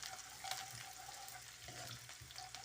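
Onions frying in oil for a kadhi tadka alongside cumin and whole red chillies, a soft, steady sizzle with faint clinks and small bursts, fairly quiet and with no talking.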